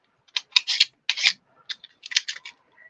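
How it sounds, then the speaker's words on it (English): A knife scrapes dried glue off the blades of a pair of scissors in a series of short, close, rasping strokes with small pauses between them. "And now I'm going to just clean off any extra glue. Just using a knife."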